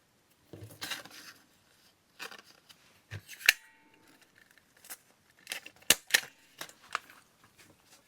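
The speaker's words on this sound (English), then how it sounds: "Now I'm going to staple it." Sharp, isolated clicks and crunches of a stapler being pressed through paper, several separate snaps spaced irregularly with quiet rustling of paper in between, close and fairly loud.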